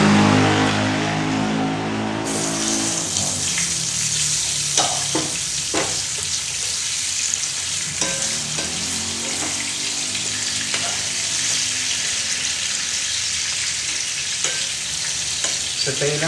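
Onions sizzle loudly in a hot pan and are stirred now and then, a dense, continuous frying hiss with occasional scraping knocks from the utensil, close up and with no talk.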